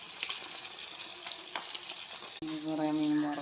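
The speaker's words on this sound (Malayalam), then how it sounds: "കുറേ മീൻ വറക്കാനുണ്ട്." Fish frying in a pan in a Kerala home kitchen, with a steady bright sizzle and crackle throughout, then a sudden shift to a louder, fuller hissing sizzle near the end.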